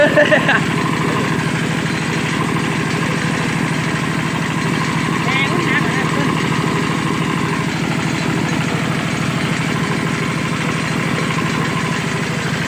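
A tractor engine idles steadily with a continuous low rumble and vibration while trampling straw stubble in a field, with voices speaking over it.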